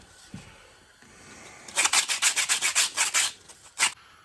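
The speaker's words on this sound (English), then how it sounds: "you sand enough, you'll get right straight through to the other side" A coconut shell is sanded by hand in a steady run of about a dozen rasping back-and-forth strokes, close and fairly loud, following a quiet pause with a small knock.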